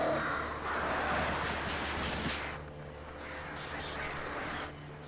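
Crows caw repeatedly in the video game Alan Wake, moderately loud calls over a steady ambient game background with no talking.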